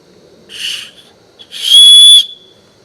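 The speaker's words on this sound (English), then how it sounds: "the buckle on the chest strap has a whistle on it, an emergency whistle" Two sharp, shrill blasts from an emergency whistle built into the chest-strap buckle of a Teton Sports Oasis 1200 daypack, close by, a short one followed by a longer, louder sustained tone, with quiet gaps between.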